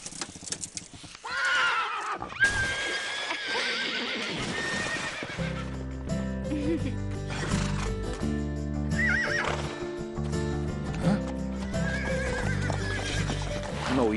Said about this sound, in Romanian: Vino, ești un cal bun.